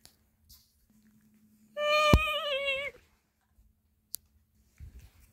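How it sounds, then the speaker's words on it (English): A cat gives a single drawn-out meow, close and clear, sliding in pitch over about a second, with a sharp click at its start and another brief click after it in an otherwise quiet room. "Cat!"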